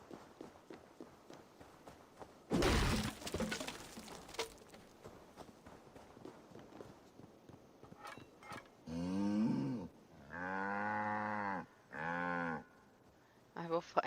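A cow in a video game set in Asgard lows in several long, loud moos, separate calls near the end after an earlier burst of noise and quieter footsteps.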